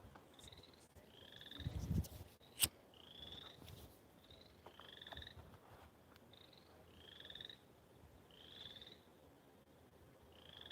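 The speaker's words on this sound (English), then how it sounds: "You guys hear the tree frogs?" Tree frogs croak on a farm at night in a steady repeating chorus of short, faint calls every second or two, with a brief knock and rustle near the start.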